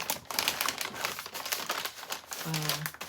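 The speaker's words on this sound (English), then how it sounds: "Sorry about the noise, paper noise" Close, continuous crinkling and rustling of paper being handled, with a brief low hum near the end.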